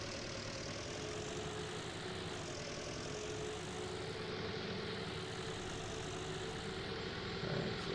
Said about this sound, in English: hear that Ford behind me rumbling along